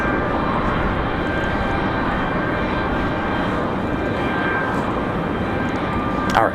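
A Breeze Airways Embraer E190 jet produces a steady, loud broadband roar with a faint high whine, filling the whole stretch without a break.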